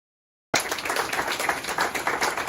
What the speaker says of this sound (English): I think a clap won't be bad.